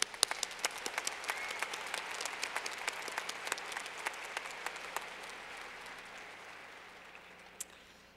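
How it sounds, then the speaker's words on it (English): Applause from the audience at a university commencement ceremony, with steady scattered clapping and a few sharp individual claps, moderately distant, gradually thinning toward the end. "Let's give you a round of applause, and then you may be seated."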